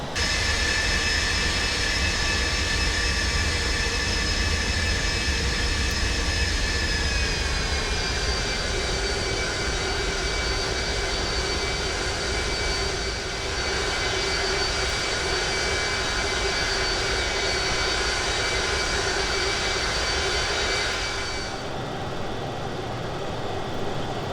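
Avro Vulcan XH558 jet engines roar steadily in the X-Plane 11 flight simulator, a continuous loud drone with a high whine that shifts pitch slightly before cutting to a quieter rumble near the end.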